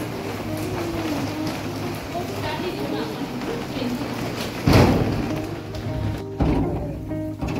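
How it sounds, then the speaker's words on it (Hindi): Very heavy rain pours down in Pakistan, a dense steady broadband wash filling the scene while someone talks over it, with a couple of louder splashing bursts toward the end. "यहाँ इतनी तेज बारिश आ गई"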